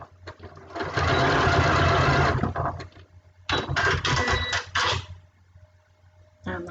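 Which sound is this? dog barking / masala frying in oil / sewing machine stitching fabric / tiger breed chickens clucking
sewing machine stitching fabric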